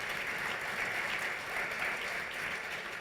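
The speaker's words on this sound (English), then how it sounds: "Please give our panel a round of applause." A conference audience applauds a panel steadily and evenly for a few seconds, a dense wash of clapping hands with no voices.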